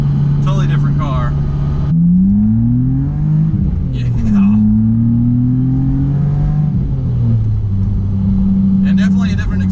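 A BMW Z3 M Coupe with an aftermarket exhaust drones and revs from inside the cabin, its deep engine note climbing and settling in pitch through several gear-like steps, loud and steady, with a brief spoken word over it.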